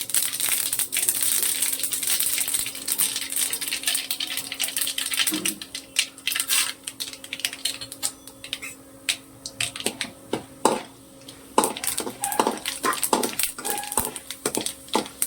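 Mustard seeds crackle and pop in hot oil for an okra (lady's finger) stir-fry, a dense sizzle broken by many sharp, irregular spluttering bursts that thicken toward the end, close and loud with no talking.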